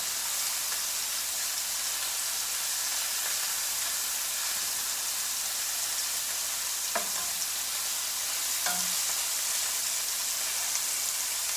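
Meatballs bound with egg browning in a frying pan give a steady close sizzle and hiss throughout, with a couple of faint clinks of stirring partway through.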